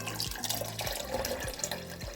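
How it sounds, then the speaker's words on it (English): Water is added to a pot of thick grits, a short splashy pour with light trickling and a few drips, close and fairly quiet, with no talking over it. "And we're going to add some water."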